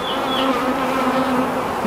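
Honeybees from a hive taken out of a log and relocated buzz in a steady, dense drone close by, with a higher insect whine passing briefly and no talking.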